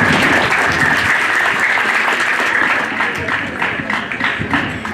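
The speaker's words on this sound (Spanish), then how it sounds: "Fuertes los aplausos," Guests at a religious wedding reception in Huaraz, Peru applaud the newlyweds, a loud, dense, sustained burst of clapping from a full room that eases slightly toward the end with some voices mixed in.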